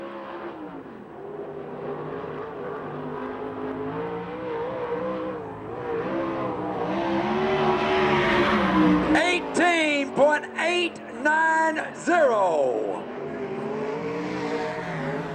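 USAC/CRA sprint cars race at Manzanita Speedway, engines droning and swelling as cars roar past, then sharp revving bursts near the end, all under an announcer's voice on the public address.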